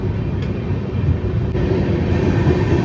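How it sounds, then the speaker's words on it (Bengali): The 12073 Jan Shatabdi Express, running Howrah to Bhubaneswar, pulls out of Cuttack station with a loud, steady low rumble of rolling wheels, heard from inside a coach. "অ্যাট লাস্ট এই কটক ছেড়ে বেরোলো ট্রেন"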